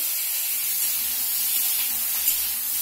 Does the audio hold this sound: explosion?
no